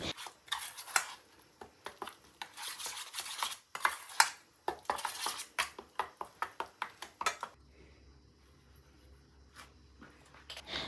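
Chicken marinade being stirred with cooking oil and lemon juice, a run of wet clinks and scrapes of a spoon against a bowl, fairly close, then a quieter stretch with a low steady hum near the end.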